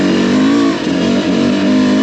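A versatile motorbike runs on a fire road, its engine note holding a steady, loud drone with a brief dip and surge in pitch midway, close and continuous with no talking.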